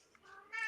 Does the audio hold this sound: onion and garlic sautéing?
no